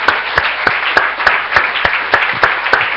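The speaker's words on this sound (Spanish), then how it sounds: "démosle un aplauso" Steady rhythmic clapping from a church congregation during a Spanish-language service, loud and regular with evenly spaced strong beats over a dense bed of overlapping claps.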